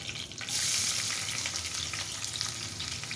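Chopped onion dropped into hot oil in a pan while cooking chickpeas: a sudden loud, hissing sizzle that swells after half a second and then holds steady and close, with no voices.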